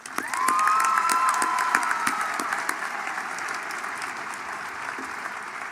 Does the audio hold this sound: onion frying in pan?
no